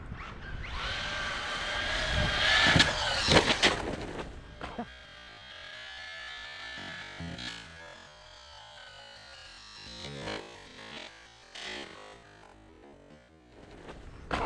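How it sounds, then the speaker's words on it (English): Traxxas Rustler VXL 4x4 RC truck doing burnouts: a loud, high electric whine with rising pitch in the first few seconds, then quieter intermittent motor bursts and tire scrabble with some talk. "Nope, she's doing burnouts."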